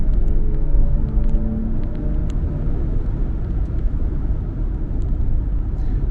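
A steady low synthetic hum with faint tonal layers drones continuously, the active driving sound of a Kia EV9 AWD electric SUV, with road rumble underneath.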